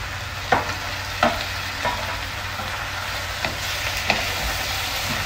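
Mixed chicken pieces (legs, breast and wings) frying in a pan, a steady sizzle with a few distinct stirring scrapes spaced across it, close and without talk.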